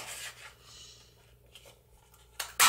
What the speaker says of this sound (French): dans mes chutes, je viens en découper un